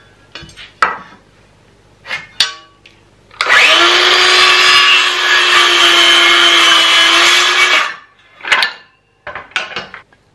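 A piece of 3/4-inch-thick scrap wood is cut to four feet: a loud, steady whine of about four seconds, framed by a few sharp knocks and clatters before and after.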